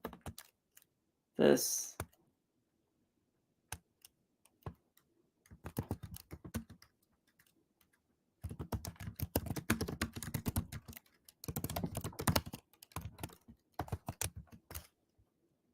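Bursts of typing on a computer keyboard while building an HTML web page, with rapid clicky keystrokes in several clusters, close and clear, separated by pauses and brief speech.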